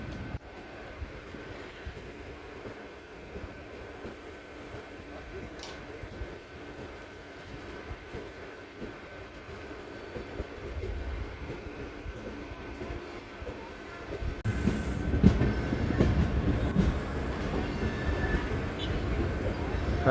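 Venkatadri Express train rolling on the outer approach to Tirupati, a steady rumble of wheels and carriage noise heard from on board, swelling louder and rougher in the final seconds.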